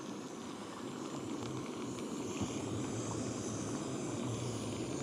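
Water at a rolling boil in a pot on a camping stove at an outdoor moto camp, a steady, close, even hiss and rumble with no pauses.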